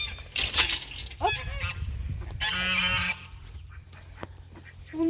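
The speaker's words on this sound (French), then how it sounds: "nous rentrons dans le parc des canards. Courant indien." Indian Runner ducks in their pen give loud honking, nasal calls in several bursts, some close and harsh, with a faint voice briefly under them.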